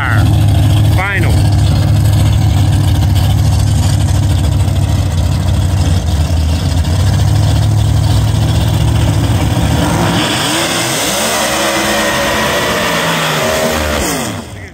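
Big-block, big-tire drag race cars with Pro Charger engines roar down an eighth-mile strip in a grudge race, a loud, sustained engine howl that holds steady before the pitch sweeps and fades as the cars pull away.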